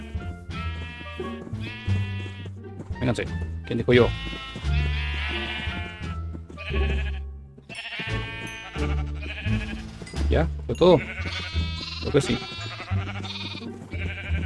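Sheep in Minecraft bleat a few times in short, wavering cries, mixed in with someone speaking Spanish throughout.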